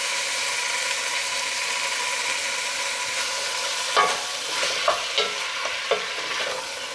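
Onion, tomato and jalapeno with salt sauteing in a pot for a stew, giving a steady broad sizzle throughout, with a few louder stirring scrapes and clanks toward the end.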